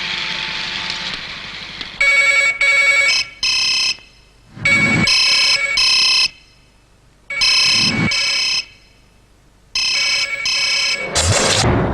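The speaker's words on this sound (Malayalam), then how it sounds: "ഒരു ഫോൺ" A telephone rings in a Malayalam action film scene. Several loud electronic ring bursts come in a regular on-off pattern, separated by short silences, with no voices over them.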